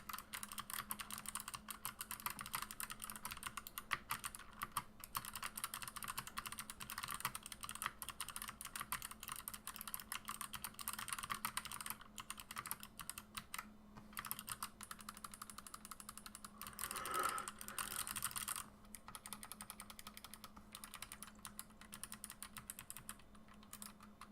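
Typing on a KBD75 mechanical keyboard fitted with clicky Box Pale Blue switches, a steady run of close, crisp keystrokes with a slight rattle from some keys, continuing alone for the whole stretch.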